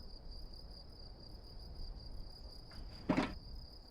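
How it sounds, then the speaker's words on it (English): Crickets chirp in a steady, high, continuous drone across a quiet night scene in the video game The Citadel, with one brief thud near the end. "Why are we still hearing crickets?"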